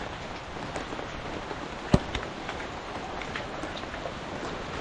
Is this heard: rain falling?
yes